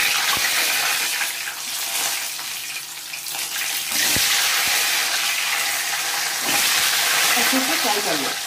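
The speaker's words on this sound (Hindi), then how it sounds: "अच्छे से फ्राई कर लें।" Slit eggs frying in hot oil in a home kitchen, a loud continuous sizzle with crackles and a few clinks of a utensil stirring.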